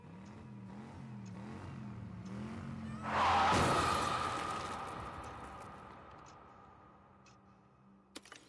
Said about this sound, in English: bam, we die in a car crash